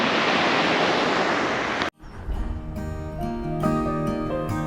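Sea surf breaks loudly against a sunlit coast along the South West Coast Path, a dense continuous wash that suddenly cuts off, followed by softer rolling water and low wind.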